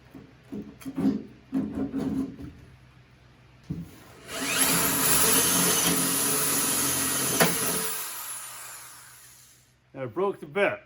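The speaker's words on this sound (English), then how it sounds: "I drill out the screws and hopefully get it apart without damaging anything." A power drill boring out screws in a rusty car door runs in one sustained loud burst of whirring and grinding, preceded and followed by someone talking.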